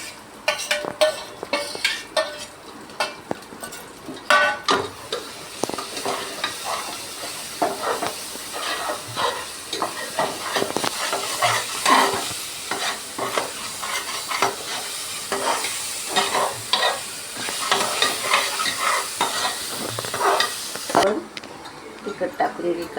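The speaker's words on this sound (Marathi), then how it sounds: "हे खोबऱ्याचं वाटण टाकून घ्यायचं।" Coconut paste fries in a mutton gravy, a steady sizzle broken by frequent scraping and clinking of a spoon stirring in the pan, while someone talks over it.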